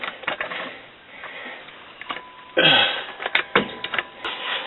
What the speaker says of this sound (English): I'm using my foot to crank that up.